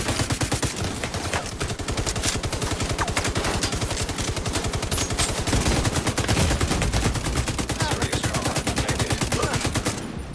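Automatic gunfire in the video game Tom Clancy's The Division 2 rattles continuously and loudly in rapid rhythmic bursts for the whole stretch, dense and close.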